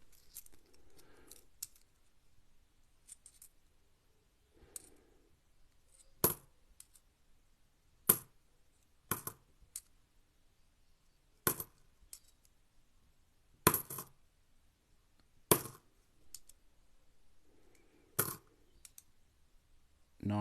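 Coins drop and clink one batch at a time as they are sorted by hand, sharp metallic clicks in irregular bursts separated by quiet pauses, close by.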